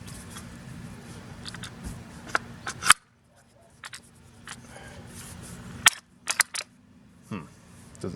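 Bolt of an old Italian M91 Carcano cavalry carbine being worked by hand, a few sharp metallic clicks and clacks spaced out over a low room hum, close and fairly quiet.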